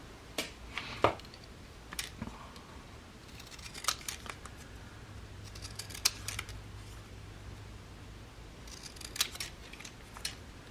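Sharp, close snips of scissors cutting out a small paper ticket, coming in irregular clusters with quiet gaps of paper handling between them.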